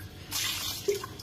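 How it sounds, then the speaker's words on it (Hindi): Water splashes and trickles into a pot of mutton dum pukht, a brief pour followed by a couple of small drips, close and fairly soft. "पानी का ऐड करेंगे"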